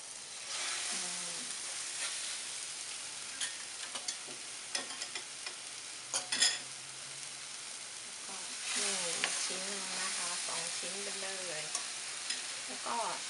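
Chicken breast steak pan-grilling with rosemary over medium-low heat, a steady sizzle broken by bursts of stirring and scraping, with faint background speech in places.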